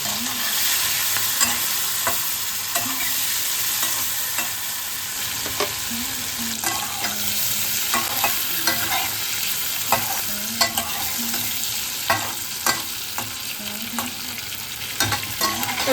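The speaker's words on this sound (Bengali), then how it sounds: "এবার আমি চিংড়ি মাছগুলোকে ঢেলে নিলাম।" Prawns coated in salt and turmeric frying in mustard oil in a wok, a steady close sizzle with occasional stirring scrapes and clinks throughout, no voices.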